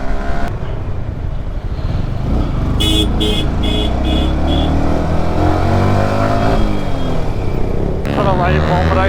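A motorcycle engine revs hard for a wheelie on a night ride, loud and close and sustained throughout, with a brief run of beeping tones partway through.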